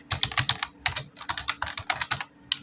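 Quick, steady typing on a computer keyboard while entering table data, dense clusters of sharp close key clicks in a brisk irregular rhythm, with a brief pause before a last keystroke and no voice.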